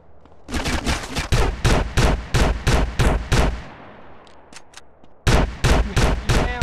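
Gunfire in GTA San Andreas: a rapid string of loud, evenly spaced shots, a brief lull with a couple of fainter pops, then another close burst of rapid fire.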